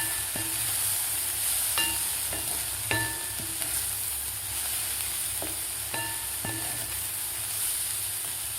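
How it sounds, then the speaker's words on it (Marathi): Spiced matki (moth bean) curry with coriander powder and garam masala being stirred in a hot pan, a steady sizzle and hiss broken by a few light scraping clicks of the spoon. "आता व्यवस्थित आपल्याला हलवून घ्यायचं आहे."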